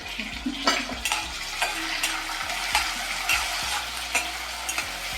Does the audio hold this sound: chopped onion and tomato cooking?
yes